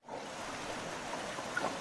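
The Kumbuk River at a Sri Lankan eco lodge flows with a soft, steady, distant rush of water, faint and even throughout.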